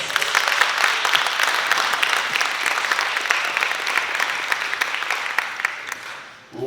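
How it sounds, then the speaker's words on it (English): Sustained, loud applause from an audience at an Urban League graduation ceremony, dense steady clapping that fills the space for several seconds before fading at the end. "let's give them another round of applause"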